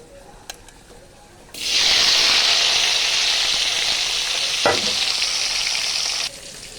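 Onion and tomato drop into hot oil with nigella seeds and dry chilli, setting off a sudden loud, bright sizzle that holds steady for several seconds before cutting back to a quieter background, with a brief clatter midway.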